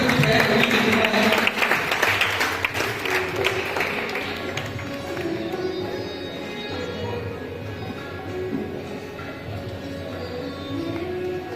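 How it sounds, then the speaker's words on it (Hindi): Loud applause from an audience at a formal ceremony honoring guests, dense clapping strongest at the start and then easing into a steady, softer patter that carries on throughout. "जोरदार तालियां"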